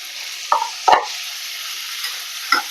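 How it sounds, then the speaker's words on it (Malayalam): Onion, tomatoes and green chillies frying in a pan for a Kerala-style gooseberry rasam, a steady soft sizzle with a few sharp clatters of a spoon stirring the mix, no talking. "സവാള ചെറുതായിട്ട് വാടിയിട്ടുണ്ട് ഇനി നമുക്ക് തക്കാളിയും പച്ചമുളകും ഇട്ട് കൊടുക്കാം"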